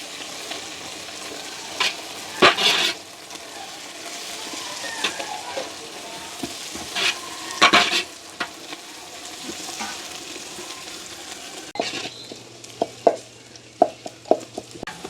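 Green chilies and onions sizzle and fry in a pan while being stirred, with scraping spoon strokes at intervals and sharper clatters near the end, no talking.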